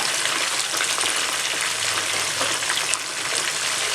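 Gobi chicken pieces frying in hot oil in a pan, a steady dense sizzle that stays loud and even throughout with no talk.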